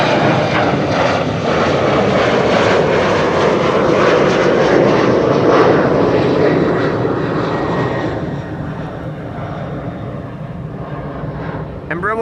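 Embraer 190 jet departing Schiphol runway 24 Kaagbaan, a loud broadband engine roar close by that swells and then gradually recedes, with a voice speaking over it.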